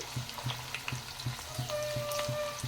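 Thin cabbage fritters (peyaji) fry in oil, making a soft sizzle with a regular ticking pulse about three times a second and a brief higher whine midway, quiet and with no speech.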